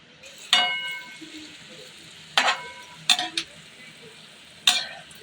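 Palm fruit fritters (taler bora) sizzle in hot oil for a Janmashtami recipe, with several bursts of stirring and spatula scrapes over a steady low fry.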